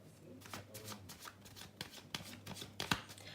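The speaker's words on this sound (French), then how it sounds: "Alors là, je sors la carte de la femme." A card is drawn from a deck of cards in a series of soft, close papery flicks and slides that rustle in quick succession for a few seconds.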